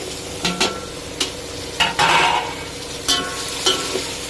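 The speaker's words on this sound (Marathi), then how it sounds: "नंतर त्यामध्ये सगळ्या चिरलेल्या भाज्या, धुवून घेतलेल्या भाज्या टाकायच्या" Chopped, washed vegetables are stirred in a pan for vegetable pulao, with a spoon scraping and clattering in irregular strokes over a soft, steady sizzle.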